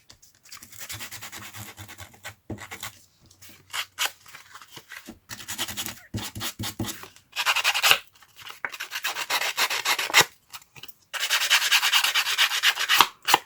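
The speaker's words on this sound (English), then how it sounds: "This is a sanding disc." Repeated rubbing and scraping of a sanding disc over paper edges to distress them, coming in short bursts with brief pauses between, then longer steady stretches of abrasive scratching.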